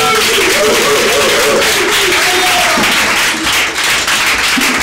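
A church congregation breaks into sustained, loud applause and cheering acclaiming the Lord, a dense continuous roar of clapping and voices holding steady throughout with a brief dip near the end.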